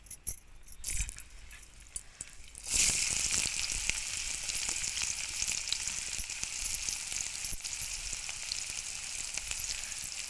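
Onions drop into hot oil for a mustard greens dish, bursting into a bright, steady sizzle after a few seconds of quieter clatter, continuing close and even to the end.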